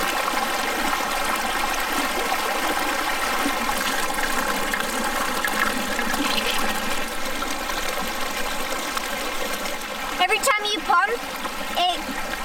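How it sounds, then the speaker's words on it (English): Water pumped through a hiking water filter trickles and splashes steadily into a container for several seconds, close and continuous, ending in a few brief bursts of handling noise. "Water comes out from the filter."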